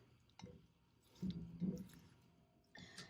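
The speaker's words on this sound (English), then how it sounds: "We're going to go and just give this a nice little stir." A spoon stirs a French-style rabbit and mushroom mustard sauce with thyme and tarragon in a pan, making a few soft, wet squishes and faint drips, quiet and close.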